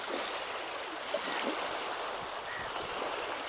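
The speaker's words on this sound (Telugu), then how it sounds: "ఎంత అలల సౌండ్కి అసలు నిద్ర వచ్చేస్తుంది" Small waves lap steadily at the Vontimitta backwater, where a small wooden boat floats nearby, giving a continuous soft wash of water with light wind and no voices.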